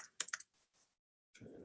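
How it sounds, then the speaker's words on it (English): Fingers tap a quick burst of keys on a computer keyboard, a few sharp close clicks, then a pause and another short flurry of typing. "I'm just typing stuff out here"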